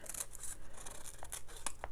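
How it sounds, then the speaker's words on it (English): Scissors snip through brown paper with a series of short, crisp cuts and rustles, close and fairly quiet, with no talking. "So now I just need to trim the brown paper around"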